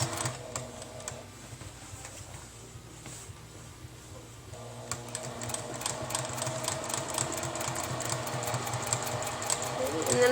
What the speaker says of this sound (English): I'm just sewing on the very edges of these labels